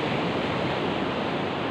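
Ocean surf washes continuously onto Selong Belanak beach in Lombok, a dense, even roar of breaking waves that fills the whole stretch without pause.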